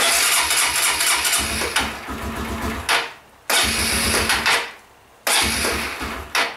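A pressure washer engine cranks and fires, running loud and rough in bursts that cut out twice into near-silence before catching again, a mid-pitched chugging close by with no talk.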